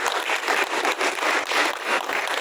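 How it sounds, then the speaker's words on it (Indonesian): Applause for teachers from an audience at a school culinary practical exam event, a dense, steady crackle of clapping hands that fills the whole moment without pause. "Tepuk tangan khusus untuk para guru."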